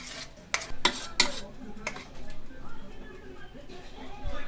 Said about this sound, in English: She's stirring in the 1 cup of peanut butter with the what? The 2 cups of sugar, 1/2 cup of milk, and 1 teaspoon of vanilla.